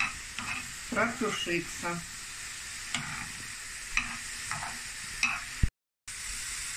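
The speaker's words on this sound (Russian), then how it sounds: "Теперь все это хорошо перемешаем" A zucchini mixture is stirred in a frying pan over a soft sizzle, with a series of close scraping, clattering strokes of a utensil against the pan. A voice briefly speaks partway through.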